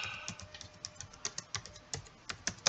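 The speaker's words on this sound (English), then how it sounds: "we'll just type in cassette" Rapid, uneven keystrokes on a computer keyboard, entering a search for Elton John Greatest Hits cassettes; sharp close clicks in irregular bursts with no speech.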